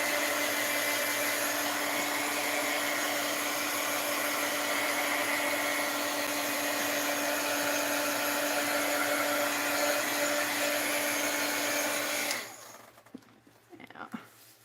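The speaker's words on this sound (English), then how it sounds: "We want to see what that heat gun will do to that washi tape." A heat gun blows hot air onto plastic washi tape, a loud steady roaring whoosh with a tonal whine that runs for about twelve seconds and then cuts off, leaving quiet handling noises.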